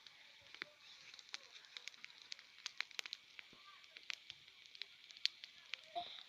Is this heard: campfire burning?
yes